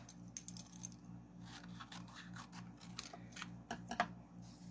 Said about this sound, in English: So I'm just going to cut this in half.